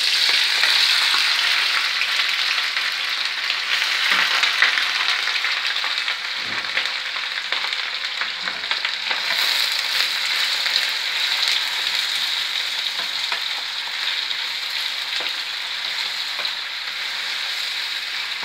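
Onions frying in several spoonfuls of mixed olive and plain oil for homemade couscous, a loud, dense, continuous sizzle close by that holds steady with faint stirring scrapes.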